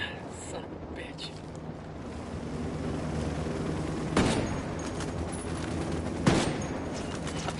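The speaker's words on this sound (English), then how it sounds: "Apache's about to fire." An Apache helicopter firing on the player in Ghost Recon, with a constant rotor and engine rumble underneath and two sharp, loud blasts a couple of seconds apart amid background battle noise and talk.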